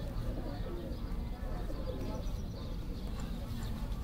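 Pigeons coo softly in a loft kept by a pigeon fancier, golden breeds among them, a low continuous murmur with voices talking over it throughout.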